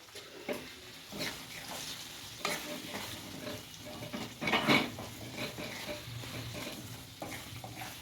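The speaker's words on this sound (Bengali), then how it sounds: "এইবার মশলার সাথে আমগুলো আবারও কষাবো" Raw mango pieces coated in spice powder stir-fried in a pan for pickle: repeated close scraping and clattering stirs over a soft sizzle, fairly quiet, no talking.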